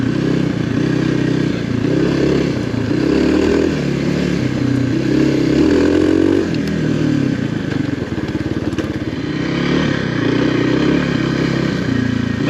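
KLX 300R dirt bike engine lugging in third gear on a trail: a steady, close-up single-cylinder thrum that swells and eases with throttle changes, with some clatter and scraping, and no talking.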